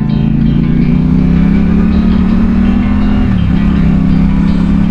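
A 2024 CF Moto 450 SR-S motorcycle is ridden along a road in the Philippines, its engine holding a loud, steady drone close to the listener with a slight dip in pitch near the end.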